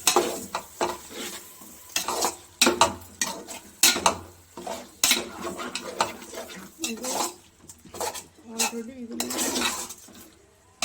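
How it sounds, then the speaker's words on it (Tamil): A spoon clanks and scrapes irregularly against a pan as tomatoes are stirred with a handful of salt, and a light sizzle runs underneath. A voice speaks at times between the strokes. "ஒரு கை அளவுக்கு உப்பை போட்டு நல்லா மிக்ஸ் பண்ணுறோம்"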